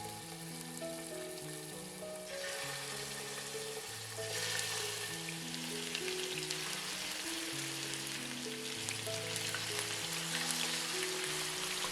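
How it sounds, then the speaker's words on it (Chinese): Pork ribs frying in caramelized sugar in a pot, a soft continuous sizzle and light crackle that swells slightly midway, heard close beneath a gentle melodic background music track with no talk. "把排骨两面煎至金黄，同时也均匀地裹上糖色。"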